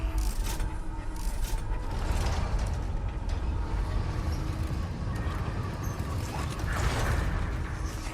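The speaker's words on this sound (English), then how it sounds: "So now we can safely pull this lever" A lever is pulled in Resident Evil 4, setting off a steady, grinding mechanism with creaking and ratcheting textures that run continuously and loudly for several seconds with no voices.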